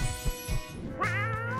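A cat meows close up, a drawn-out, wavering call that rises and falls after a few soft low thumps.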